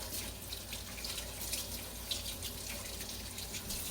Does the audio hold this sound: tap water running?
yes